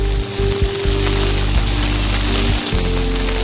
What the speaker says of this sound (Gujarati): સુરતમાં વરસાદ ચાલુ થઈ ગયો છે રવિવારના દિવસે।